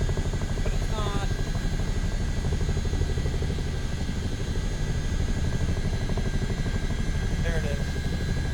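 A CH-47D twin-rotor helicopter in a flight video game drones steadily and loudly throughout, with a faint voice talking beneath the rotor noise.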